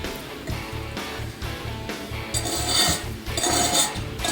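Oil and grease scraped out of a stainless steel frying pan into the garbage, a steady run of repeated metallic scrapes growing louder and harsher, close up with no talking.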